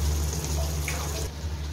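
Heated water from a kettle poured steadily into rice for chicken biryani, a close, continuous splashing stream lasting under two seconds.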